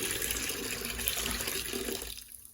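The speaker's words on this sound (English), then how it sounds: "you want to pour all that water through the strainer" Water carrying tomato seeds pours steadily through a small strainer, a loud, close, continuous rush that tapers off at the end, with no talk.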